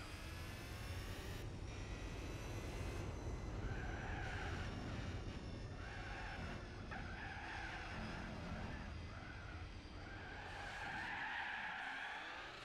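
Sustained tire skid from a car snapping into oversteer during an S-licence test in Gran Turismo 4 without brakes: a loud, continuous screech over engine roar, rising and swelling in waves for several seconds with no talking.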